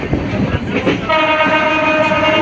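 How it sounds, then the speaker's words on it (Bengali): A train rolls into Rajshahi station with rumbling and clattering, then a sustained horn blares loudly over the noise. "দূর থেকে ট্রেন সামনের দিকে আগাচ্ছিল। তো ট্রেন স্টেশনে চলে আসলো।"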